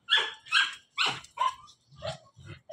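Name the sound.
dogs barking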